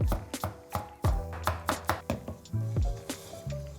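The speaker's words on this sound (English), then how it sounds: "Also cut up 1 big apple, around 80 grams, into small bits for a nice fruity bite." A big apple chopped into small bits with a knife on a board, a quick series of crisp, close knocks in an irregular rhythm, each cut sharp and distinct, no voices.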